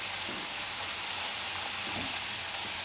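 Shredded cabbage sizzles steadily in hot oil over a low gas flame, a constant dense hiss at even loudness with faint stirring underneath.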